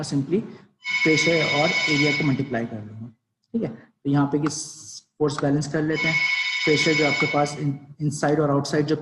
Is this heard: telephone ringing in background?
yes